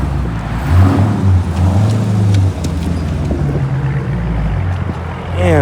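A straight-piped 2020 Dodge Scat Pack exhaust rumbles loud and close, a deep steady drone with a couple of revving swells over about six seconds.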